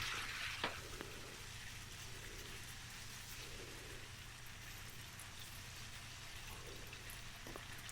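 Diced tomatoes sauté in hot oil in a pan for vegetable fried rice, giving a steady, soft sizzle and crackle that runs evenly throughout with a faint clink near the start.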